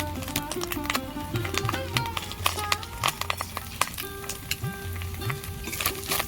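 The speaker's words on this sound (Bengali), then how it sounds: "নারকেলের সাথে ডালটা আমি ভেজে নেব" Lentils (dal) frying with coconut in a pan make a close, steady sizzle broken by frequent clicking scrapes of stirring.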